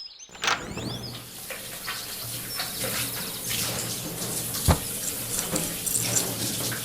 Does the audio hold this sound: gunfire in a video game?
no